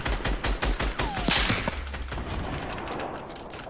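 Gunfire in a multiplayer video game, a cluster of sharp rapid shots up front then a single louder crack standing out over a dull rumbling game soundscape.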